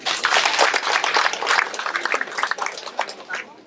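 Audience hand clapping at a Sabah Day gathering in Kota Marudu, a steady crowd applause of moderate loudness with individual claps audible throughout, tapering slightly toward the end.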